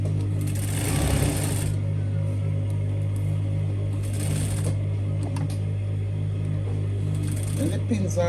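A sewing machine stitches curtain fabric for a tab-top curtain with box pleats, a loud, steady motor hum broken by several faster running bursts close by.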